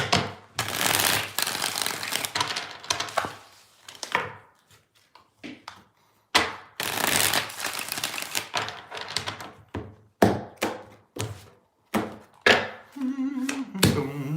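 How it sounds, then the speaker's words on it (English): Tarot cards being shuffled by hand in repeated bursts of riffling and tapping, close and crisp, with short pauses between rounds and a low hum near the end. "2 more shuffles here, 2 more."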